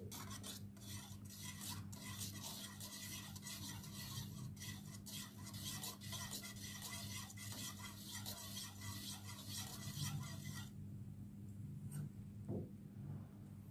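Mixed clear coat paint being stirred in a container, a close, continuous scraping and rasping with a quick rhythmic texture that stops near the end, leaving a low steady hum.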